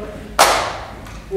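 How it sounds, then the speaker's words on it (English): A single sharp hand clap rings out in a lecture room, followed by a short decaying reverberant tail and a faint second echo, with quiet room tone before it. "when I clap my hands in this room"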